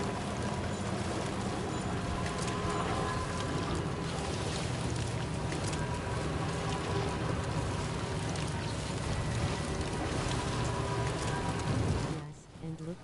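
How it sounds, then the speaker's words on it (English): Hard icy precipitation pelts down in a dense, steady roar like heavy rain on a surface, continuous and loud throughout before cutting off abruptly near the end. "Feels and sounds like it's raining ice."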